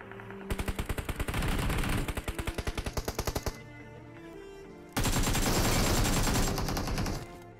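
Automatic gunfire in the mobile shooter BGMI, two loud sustained bursts of rapid rhythmic shots with a brief lull between, no talking over them.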